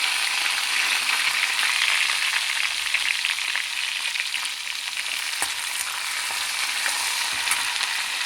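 Curry leaves, black pepper and cumin tempering spices sizzle and crackle steadily in hot oil, a dense close frying hiss with occasional small pops throughout and no talking.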